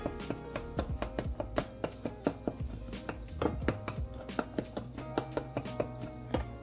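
Clumps of cookie dough ingredients for vegan s'mores cookies being broken up in a bowl, a steady run of close, repeated tapping and scraping strokes with no talk.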